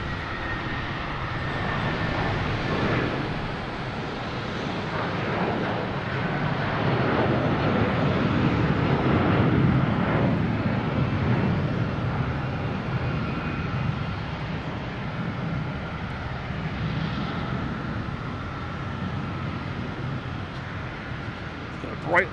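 A Boeing 757 airliner at Boston Logan Airport, bound for LAX, produces a continuous broad jet roar that holds steady and loud for the whole stretch, with faint background noise.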